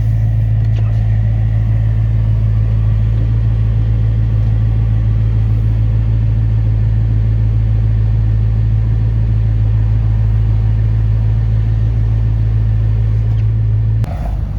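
A Dodge Hellcat engine runs close by with a loud, steady, low idling rumble that holds unbroken throughout, with no talking over it.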